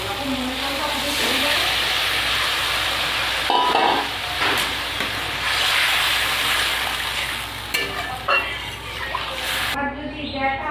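Spice-rinse water poured into a pan of frying koi fish, a loud bursting sizzle and bubbling that rises and falls, with speech over it.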